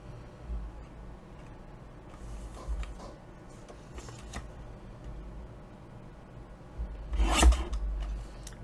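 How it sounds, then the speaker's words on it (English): Scissors cutting apart paper ephemera, with soft rasping snips and rustling paper scattered through the stretch and a louder burst of cutting and handling near the end, with no voices. "So let's start with cutting this one in half and get that big front image off of there."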